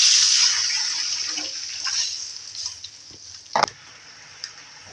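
Second portion of coconut milk poured into a cooking shrimp and string bean dish, a close, bright hiss of liquid that starts loud and gradually fades, with a couple of small knocks near the end.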